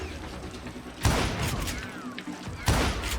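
Gunfire in the Call of Juarez Gunslinger video game: two loud, sharp bursts about a second and a half apart, each decaying into ringing reverberation over a steady background.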